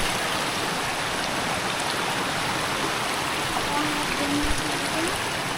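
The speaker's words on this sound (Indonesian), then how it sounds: "Ini kita lewatin sungai dulu nih" A mountain river on a hike in Sanggabuana rushes steadily as it is crossed, a dense, continuous wash of flowing water filling the whole stretch with no pauses.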